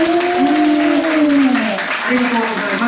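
Audience applause cast as a vote during a Kumamon quiz show at a Kumamoto castle-town theater, a steady wash of clapping from the crowd throughout while a host speaks over it.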